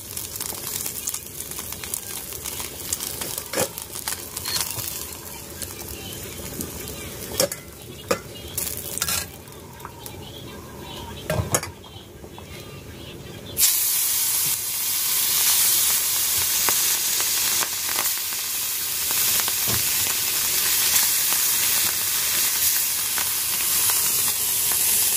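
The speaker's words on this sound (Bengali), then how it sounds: "এবারে নামিয়ে নিয়ে বাকি যে কয়েকটা মাছ আছে ওগুলোও ভেজে নেব" Fish frying in oil in a pan in a home kitchen, a steady close sizzle with stirring and scraping clatter, growing louder and denser in the second half; no talking.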